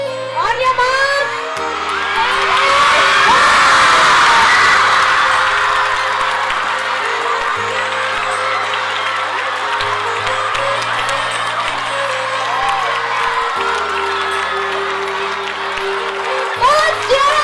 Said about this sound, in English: Girls, cheer up for your stars.